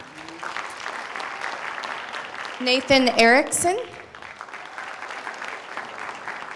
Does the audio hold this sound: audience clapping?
yes